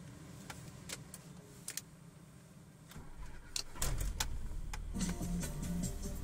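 Cold start of a Mazda 626 running on LPG, with quiet clicks and ticks first, then the starter cranking and the engine catching quickly and settling into a steady idle close by.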